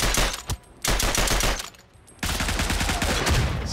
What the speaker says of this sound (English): That's definitely a burst fire weapon.